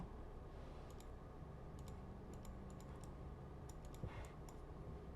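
Bursts of quick, light keystrokes on a computer keyboard during 3D modeling work, scattered clicks in short clusters over a faint steady background hum, with no talk.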